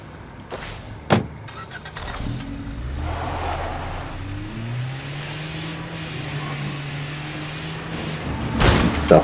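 A car engine in the video game State of Decay 2 starts with a knock, then settles into a steady running hum that rises slightly, with clunks at the start and end like doors or impacts.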